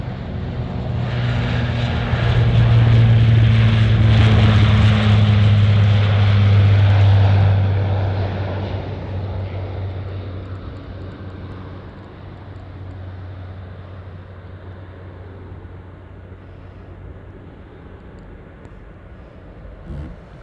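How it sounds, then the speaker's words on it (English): A Lockheed C-130 military propeller aircraft passes close at Anchorage Airport, its loud droning propeller hum building to a peak, then receding into a fainter steady rumble, with no voices heard. "I think that's a C-130. Yeah, look at that C-130."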